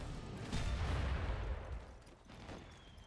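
Artillery shells fire and burst in the World War I video game Valiant Hearts, with heavy booming blasts and rumbling low thuds, the loudest one early, followed by a weaker second explosion.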